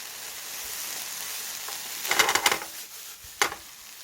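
Food being stir-fried in a pan outdoors beside an oak wood-fired oven, with a steady low sizzle under two short bursts of scraping and clattering as the ingredients are stirred.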